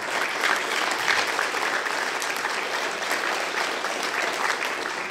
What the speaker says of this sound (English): I would applaud for that